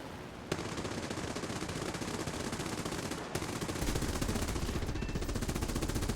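Aircraft machine guns fire at an enemy plane from a Chinese Ki-27 Otsu fighter in War Thunder, a continuous rapid rattle of bursts over engine drone, with a brief pause before firing resumes.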